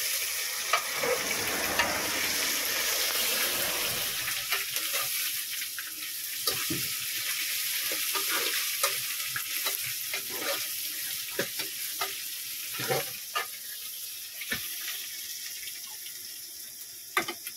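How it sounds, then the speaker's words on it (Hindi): Ginger garlic paste sizzles in hot oil for a tomato curry, a steady close frying hiss with scattered stirring clicks and scrapes, no talk. "इसमें थोड़ा अदरक लहसुन पेस्ट डालेंगे"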